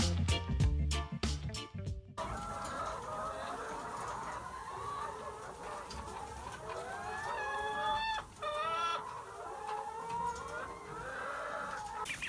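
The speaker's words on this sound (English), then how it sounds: "Morning turkeys." A flock of seven-week-old turkeys calls continuously nearby, with warbling, bubbling gobbles and clucks overlapping, after a few sharp knocks at the very start.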